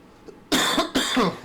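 Two sharp, loud coughs follow each other closely from a person still a bit sick, close to the microphone after a moment of quiet.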